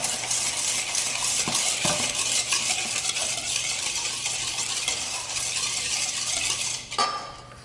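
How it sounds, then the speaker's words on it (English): A whisk beats sugar in a bowl for blueberry muffin batter, a fast continuous scraping and swishing close by that stays steady before a few clinks near the end. "now with that whisk, let that sugar dissolve pretty quickly"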